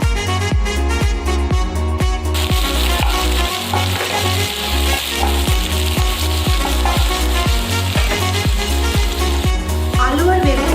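Potato and eggplant frying in mustard oil in a pan give a steady sizzle, partly masked by loud rhythmic background music throughout.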